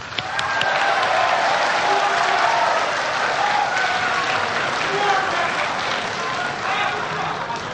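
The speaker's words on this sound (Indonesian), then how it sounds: "Anda silakan tepuk tangan" Loud, sustained audience applause in a hall at a televised Indonesian presidential debate, a dense, even roar of clapping that fills the whole stretch with no break.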